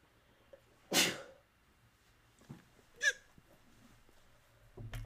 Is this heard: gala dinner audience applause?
no